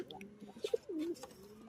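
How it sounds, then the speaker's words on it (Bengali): A baby pigeon gives a few soft, low coos close by, short throaty notes with a slight rising glide, quiet and isolated against a still background. "বাচ্চা পায়রা।"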